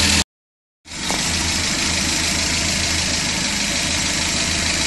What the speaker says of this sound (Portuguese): Vai até assombrar na hora que vier a marcha lenta que deu o carro.